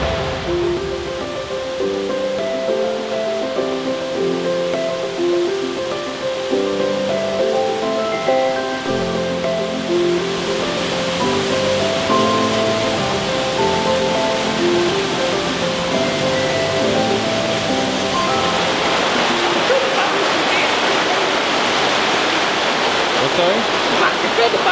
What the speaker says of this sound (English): The bubbles are quite crazy, aren't they?